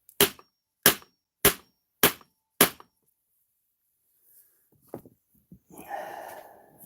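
Five loud, evenly spaced hammer blows drive a block of wood against a bent Arrma Outcast 8S RC car chassis, each a sharp crack about half a second apart, followed by quiet handling noises and a brief rustle.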